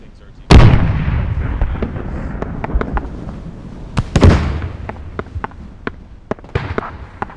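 A tank struck by an explosion in the military shooter game Squad: a sharp, loud blast with a long rumbling tail, then a second blast and a scatter of crackling gunfire pops, with faint voice chatter underneath.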